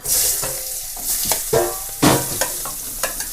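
Onions dropped into hot oil crackle and sizzle loudly and close, with repeated scraping stirs of the pan punctuating the frying at irregular intervals; no talking.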